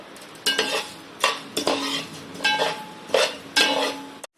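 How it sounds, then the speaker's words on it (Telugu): A utensil stirs coriander seeds as they roast in a pan for homemade ginger chutney, with about six distinct scraping strokes of metal on the pan, each sounding clearly and up close with a light crackle. "కొంచెం ధనియాలు వేయించుకున్నామండి"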